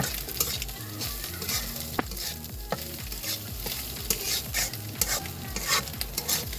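Noodles being stirred and fried with vegetables in a hot pan, a steady sizzle broken by rhythmic scraping and clacking of a spatula against the metal, close and busy with no talking.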